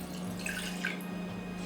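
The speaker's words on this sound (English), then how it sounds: "We're going to start by adding to a saucepan the water." Water pours steadily into a saucepan on a kitchen stove for a glaze, a continuous close splashing trickle with no one speaking.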